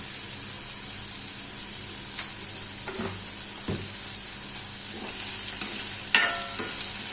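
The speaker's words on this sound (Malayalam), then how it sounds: "ഇനി നല്ലപോലെ ഇളക്കി അങ്ങോട്ട് കൊടുത്ത് വഴറ്റി അങ്ങോട്ട് എടുക്കാം." Onions with curry leaves being stirred and sautéed in a pan for a Kerala-style mutton curry, a steady sizzle under scattered scrapes and clinks of the spoon, with no voice present.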